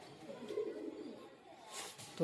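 A pigeon coos softly in the background amid faint ambient noise, low and muffled.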